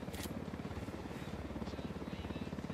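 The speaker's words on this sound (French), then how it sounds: "L'hélico derrière nous," A helicopter in Ghost Recon Wildlands flies close overhead, its rotor giving a loud, fast, steady thumping pulse throughout.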